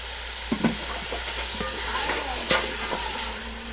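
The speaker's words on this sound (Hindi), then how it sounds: "अब हम इसके अंदर डाल देते हैं मटन यानी बकरे का गोश्त जो मैंने पहले से ही गला के रखा हुआ है" Pre-tenderised mutton goat meat is added to a ready masala in a pot and fries with a steady soft sizzle, with occasional scraping and stirring knocks and no talking.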